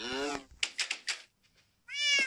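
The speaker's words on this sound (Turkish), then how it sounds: "Benim bir tanecik kedim var." A pet cat meows close by, two drawn-out cries at the start and end with a few short chirpy sounds and a brief pause between them, loud and clear with no talk.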